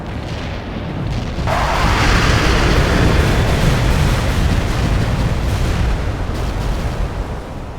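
Artillery strike explosions in the video game World in Conflict, a continuous heavy rumble of booms and blasts that swells and stays loud throughout, with no voices heard.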